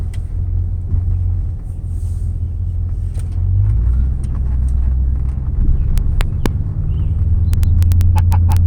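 A Lincoln Mark VIII idles and drives, a loud steady low rumble from inside the car with faint clicks, probably the hazard flashers, ticking toward the end.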